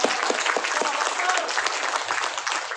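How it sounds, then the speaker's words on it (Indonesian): Thunderous applause from a large crowd at a Maulid Nabi religious gathering in Bekasi, dense continuous clapping filling the whole stretch at steady loudness. "Tepuk tangan gemuruh."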